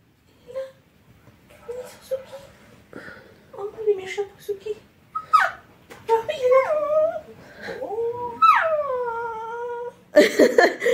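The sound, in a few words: dog howling and barking at an animal on TV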